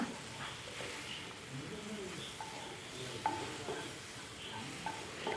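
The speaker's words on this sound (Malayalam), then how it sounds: "ചെറിയ ഫ്ലെയിമിലിട്ട് നന്നായിട്ടൊന്ന് വഴറ്റുക" Masala with chili powder is stirred and sautéed in a pan on a low flame, a quiet, steady sizzle with occasional soft spoon clicks.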